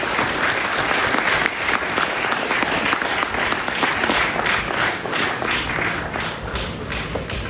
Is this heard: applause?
yes